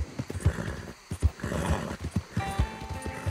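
Horse from the video game Red Dead Redemption 2, giving steady clip-clop hooves with a few snorts and whinnies close up over game ambience.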